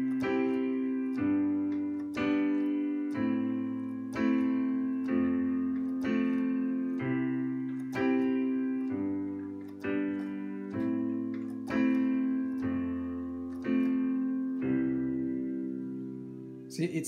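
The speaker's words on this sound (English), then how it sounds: "Let me play it with the simple chord progression first" A piano plays a simple chord progression, with full sustained chords struck one after another at a slow, steady pace. Each chord rings and fades before the next.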